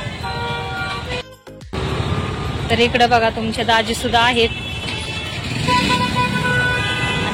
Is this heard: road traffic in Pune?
yes